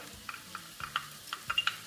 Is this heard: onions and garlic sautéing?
yes